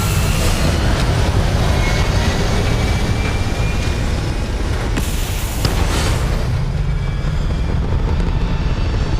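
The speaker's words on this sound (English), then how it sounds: "Core thrusters firing." A spaceship's core thrusters in Starfield fire with a loud, continuous roaring rumble, thick low-end engine noise holding steady throughout, broken by a couple of sharp bursts before easing slightly near the end.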